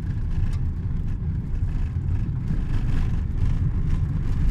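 A car driving along a hilly road toward Tauranga, heard from inside as a steady low engine drone and road rumble with no talking.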